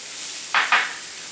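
Half a teaspoon of shredded ginger drops into hot oil with ivy gourd and gives two quick, close bursts of sizzle over a low steady frying hiss.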